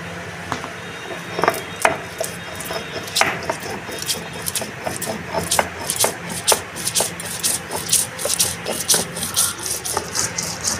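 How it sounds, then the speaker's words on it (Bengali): Mustard seeds being ground with salt by hand, a run of dry gritty rubbing strokes in an uneven rhythm that grows busier and denser toward the end, close and fairly quiet. "আমি এই সর্ষের মধ্যে নুন দিয়ে নেব, একটু নুনটা দিয়ে বাটবো।"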